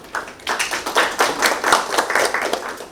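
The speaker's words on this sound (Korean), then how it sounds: "큰 박수 부탁드립니다" Audience at a hydrogen city project briefing meeting claps briskly and evenly for about three seconds, a fairly small group of hands close by with little talk.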